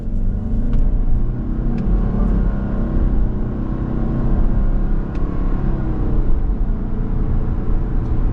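A 2024 Subaru Outback Limited XT accelerates down the road, a steady engine drone and road rumble filling the cabin at close range with no talk.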